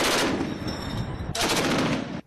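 Naval guns firing from Iranian, Russian and Chinese warships during a joint sea drill, heard as a dense, loud burst of rapid gunfire that cuts off briefly and then resumes.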